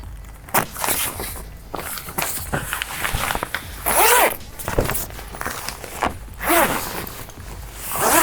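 An Oztent RV awning side panel being zipped on, with repeated zipper pulls between rustling fabric and shuffling footsteps, close and moderately loud.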